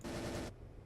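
Rifle fire in Space Engineers, one dense burst of rapid automatic shots lasting about half a second, then cutting off abruptly into quiet.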